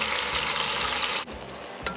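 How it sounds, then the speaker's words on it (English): Dry salted catfish and pounded ingredients frying in hot red palm oil, a loud dense sizzle that suddenly drops away, then a quieter bubbling with a small clatter near the end. "Now we're going to fry this until all of the oil from the pounded ingredients disappear"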